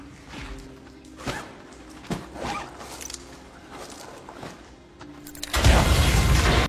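In an action film, a door is blasted open by a sudden loud, rumbling explosion that follows a series of quieter thuds and movement sounds, and the blast stays heavy to the end.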